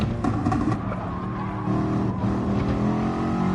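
A race car in Gran Turismo Sport roars loud and close, its engine note held steady while the tyres skid and squeal through a run of chicanes, with no talk over it.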